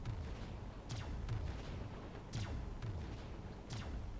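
Red cubes fired from a flying vehicle in the Disney Infinity video game, heard as a series of booming, blast-like bursts roughly every second over a steady low rumble, with no talking.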